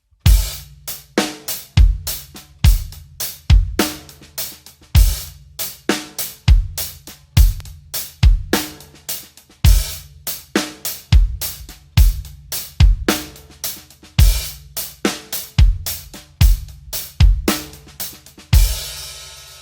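A slow, steady drum beat repeats evenly throughout, with sharp hi-hat hits, snare accents and softer ghost notes, played close and loud with no voices.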